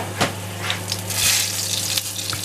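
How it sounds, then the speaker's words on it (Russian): Garlic frying in a pan, giving a steady, close sizzle with soft crackles and a few stirring scrapes throughout, no talking. "В общем, обжариваем чесночок."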